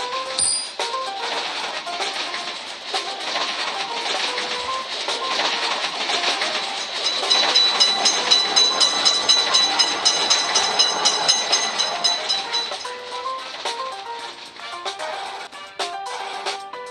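Rolling loud and unbroken through a railroad crossing in a cartoon crossing game, a train sends out rhythmic wheel clatter that swells midway, layered with ringing electronic tones, before easing off near the end.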